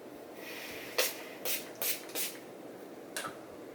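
A sandalwood and cardamom fragrance is sprayed in about five short, breathy hisses, a few closely spaced bursts followed by one more after a pause, faint against a quiet room.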